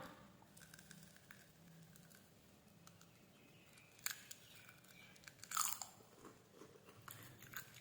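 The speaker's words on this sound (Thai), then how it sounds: "เสียงนี้กรอบมากมากเลยนะครับผม" Quiet, close-up crunching of a crisp snack being bitten and chewed, with a few sharper cracks standing out against a faint background hum.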